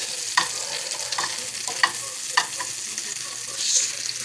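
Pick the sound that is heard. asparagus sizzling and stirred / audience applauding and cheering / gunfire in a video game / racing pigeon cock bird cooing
asparagus sizzling and stirred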